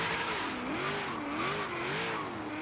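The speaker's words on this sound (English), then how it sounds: "taking this thing for just that little burnout there" A Chevy Bel Air gasser in the Forza Horizon 3 video game revs with a wavering, rising and falling pitch under a harsh, rough noise, like tires spinning in a burnout.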